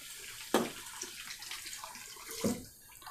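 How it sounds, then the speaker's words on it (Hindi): One cup of water goes into chickpeas being cooked for Punjabi chole masala, making a soft splashing pour with two brief louder gushes over a low, steady background. "अब मैं इसमें पानी डाल रही हूँ 1 कप"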